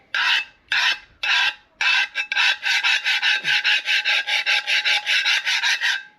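Loud, rhythmic rasping scrapes of a metal cooking pot during outdoor bushcraft cooking repeat steadily, starting in separate strokes and then speeding into a fast back-and-forth scraping.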